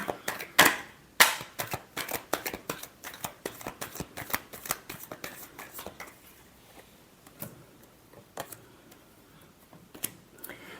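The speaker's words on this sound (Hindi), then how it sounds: "Last shuffle." Tarot cards are shuffled by hand in quick bursts of crisp riffling and slapping, dense and close at first, then thinning into scattered single taps toward the end, with no talking.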